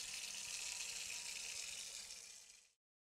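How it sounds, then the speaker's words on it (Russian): In the video game WW2: Bunker Simulator, water is poured from a bucket into a kettle, a quiet steady splashing rush lasting nearly three seconds before cutting off abruptly into silence. "можешь налить воду в чайник из ведра или кувшина"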